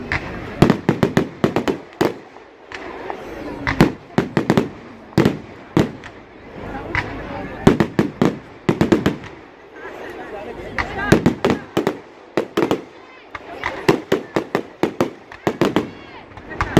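Fireworks on Bonfire Night 2017 in Corby, England, go off in irregular clusters of sharp bangs and crackling bursts. They sound fairly close and loud, with voices talking in between.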